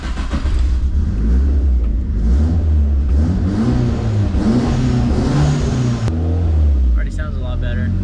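Built SR20 engine in a Nissan S13 revs on a dyno, loud and continuous with rising and falling pitch under load, a brief dip near the end, and talk heard over it.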